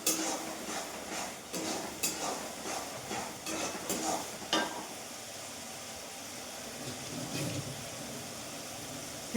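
Fish frying in a home kitchen pan, a steady soft sizzle under repeated clinks and scrapes of a utensil against the pan, moderately near.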